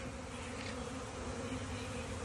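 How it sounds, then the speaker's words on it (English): A swarm of honeybees clustered on wood buzzes in a dense, continuous drone, close and steady, with many wingbeats blending into one humming tone and no talking. "a bee swarm of honeybees that have swarmed on this wood"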